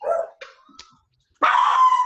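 Several dogs bark indoors in a home kitchen, sharp yips and woofs trading back and forth, followed by a brief pause and then a louder, sustained close bark.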